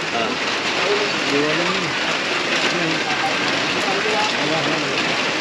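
Steady rain pours down in a continuous broadband hiss, close and even throughout, with faint voices murmuring underneath.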